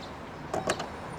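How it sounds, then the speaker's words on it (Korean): The power tailgate of an Audi A7 50 TDI quattro closes with a brief, soft mechanical whir from the strut cylinders, followed by a couple of muted clunks as it latches, quiet and close. "닫히는 소리도 작고요. 실린더 작동하는 소리도 작고요"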